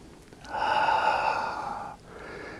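Slow breathing during a gentle qigong movement, a single long breathy exhale lasting over a second, close and soft, followed by a quieter second breath.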